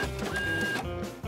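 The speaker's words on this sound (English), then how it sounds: "Printer, do your thing." A printer runs through a short print job, its steady whirring and mechanical feed noise continuing at close range with no voices.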